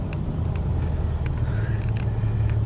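A 2010 RAM 2500 pickup cruising in third gear gives a steady, low engine rumble with road noise, close and continuous, with a few faint clicks above it.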